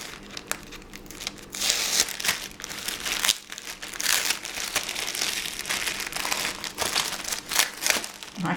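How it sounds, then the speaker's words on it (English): Paper envelopes are shuffled and pushed aside while opening craft mail, giving close, continuous crinkling and rustling with sharp crackles and brief crunches, loud and steady throughout with no talking. "Move the envelopes out of the way."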